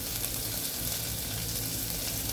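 Onions and peas fry in a pan for mint rice, giving a dense, even crackling sizzle that stays close and steady the whole time, with no talking.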